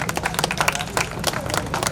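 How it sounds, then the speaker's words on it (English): Brief burst of scattered hand clapping from a school crowd at a National Sports Day medal ceremony, close and uneven, with murmuring voices underneath. "Please give her a round of applause."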